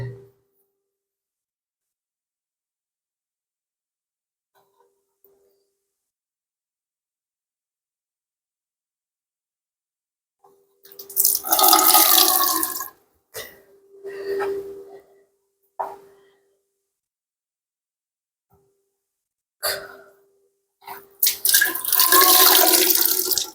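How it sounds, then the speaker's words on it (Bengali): Water drains out of a fridge in a few separate gushing bursts broken by long silences, with small drips and splashes in between, loud and close. "বাবা কত করে জল বেরোচ্ছে"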